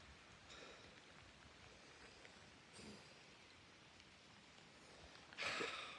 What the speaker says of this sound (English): In other news, it's raining again.